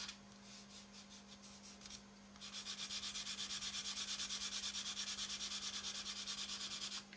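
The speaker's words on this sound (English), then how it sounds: "So we just come in with a fine sanding stick" A fine sanding stick rubs rhythmically over a plastic model kit part, building from a few light strokes into a steady, close run of quick scratchy passes over a constant low hum.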